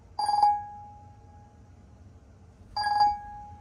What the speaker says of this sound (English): Taking in a phone call here.